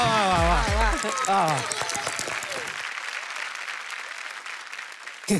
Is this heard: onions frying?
no